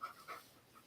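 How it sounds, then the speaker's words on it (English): Two dogs pant in a few quick, faint breathy bursts close by, with a quiet stretch following. "the two dogs are right here"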